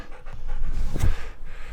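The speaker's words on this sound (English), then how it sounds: "You are the silliest dog." A dog panting in a dinghy, rapid close breathing with rustling and handling noise, one louder burst in the middle, no talk.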